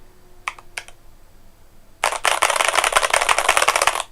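Two light clicks, then a fast, steady burst of rapid computer keyboard typing that runs for about two seconds, close and clear, with no talk.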